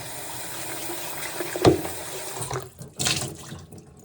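A water filter cartridge from a stage 5 NU Aqua system is rinsed under a running tap, giving a soft steady water hiss with a sharp splash near the middle and a brief gush toward the end.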